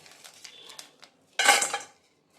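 Roasted chana dal is tipped into a metal pan for a chickpea rasam, starting with a few light clinks of utensils, then a short, loud rattling cascade of the lentils hitting the pan, close up with no talking.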